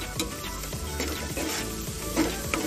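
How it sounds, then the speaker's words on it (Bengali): Mustard paste fries in oil in a pan while being stirred, a constant close sizzle with rhythmic scraping strokes of a spatula. "সর্ষে বাটা দিয়ে ভালো করে নেড়ে নিচ্ছি"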